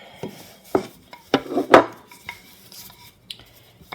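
A rolling pin working Welsh cake dough on a floured surface gives a few scattered knocks and soft rubbing scrapes, close and fairly loud, with no talking.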